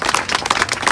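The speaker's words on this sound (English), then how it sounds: "Let's give her a big round of applause." Audience claps loudly at a mural launch, a quick burst of close, dense applause lasting about a second.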